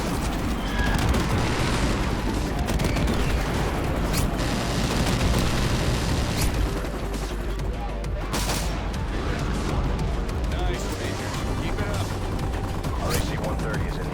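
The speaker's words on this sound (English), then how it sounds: "Friendly airstrike inbound." Call of Duty Modern Warfare multiplayer combat, with an airstrike coming in: continuous loud gunfire and booming explosions layered into a dense barrage throughout, with voices talking over it.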